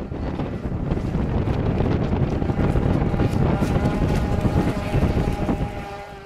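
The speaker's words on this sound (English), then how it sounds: "It was a windy day, as you can see." Gusty wind buffets the microphone beside choppy water where a radio-controlled Traxxas Blast boat runs, a loud continuous roar with a faint engine whine underneath.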